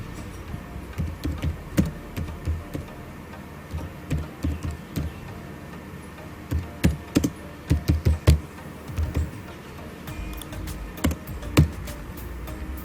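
Someone types on a computer keyboard while laying out a visiting card in CorelDRAW. Irregular bursts of close, crisp keystrokes come in clusters with short pauses between them, and no one speaks.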